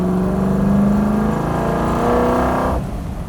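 A vintage Shelby GT500 V8 revs up to about 3,800 RPM in second gear, a loud close roar that climbs steadily in pitch, holds, then drops off sharply near the end as the throttle is released.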